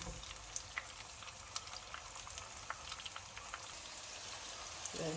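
Onions sizzle and fry softly in a pot for Nigerian local rice, a faint, even crackle with scattered small pops, heard alone at low level.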